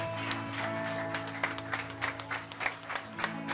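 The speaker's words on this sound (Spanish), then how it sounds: "Fuerte el aplauso para el Señor." A church congregation applauds, a soft, diffuse patter of many hands blending with a steady background tone and faint voices, distant and fairly quiet.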